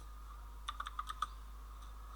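Quick bursts of keystrokes on a computer keyboard during web coding work, a short run of about six crisp clicks close by and fairly quiet, then one more tap after a pause.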